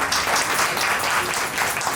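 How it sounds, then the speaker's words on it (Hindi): An audience claps for an honored guest at a teachers' award ceremony, a dense, continuous round of applause at an even, moderate loudness for the full two seconds with no talking over it. "सर के लिए आप लोग एक शानदार ताली आप लोग बजाएं"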